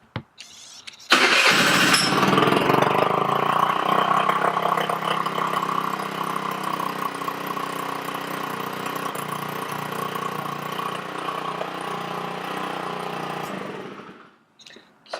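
A 50cc Chinese scooter engine turns over and catches at once, then settles into a steady buzzing idle that stays loud and close for several seconds before cutting off.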